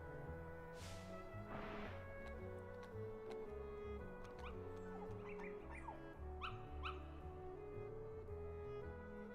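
Dalmatian puppies from Kingdom Hearts yip, whimper and bark in short bursts over looping game music, with a few sharp chirpy cries scattered near the end.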